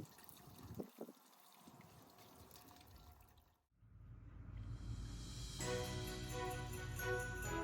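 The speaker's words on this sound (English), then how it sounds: "After the evergreens were planted, it was time to water everything in very well." A gentle stream of water pours and splashes steadily onto newly planted evergreens, growing fuller after a brief pause.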